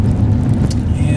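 Interior of a 1987 BMW E30 325 with a 5-speed manual driving along, a loud, steady low engine and road drone filling the cabin, with a voice faintly mixed in.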